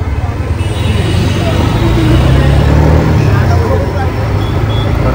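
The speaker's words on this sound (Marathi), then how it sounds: "भरपूर ट्रॅफिक आहे भाई." Heavy road traffic in Pune, a loud, dense, continuous rumble of engines and passing vehicles close by, with a person talking over the din.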